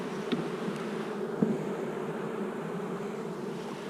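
Honeybees buzz steadily inside a hive in spring with a strong queen and solid brood, a dense, close, continuous drone with a few faint knocks.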